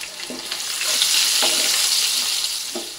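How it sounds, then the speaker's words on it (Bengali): Potatoes sizzle in hot oil seasoned with a pinch of turmeric, giving a continuous close, bright hiss broken by a few soft clinks of a spatula stirring the pan. "এই তেলের মধ্যে এবার আলুগুলো ভেজে নেব।"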